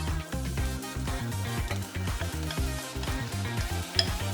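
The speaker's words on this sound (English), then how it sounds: "Now it's time to add the butternut squash." Butternut squash is stirred into a pan of sauteing vegetables for a vegan soup, giving a steady close sizzle with scraping stirs throughout and a single brighter clink near the end.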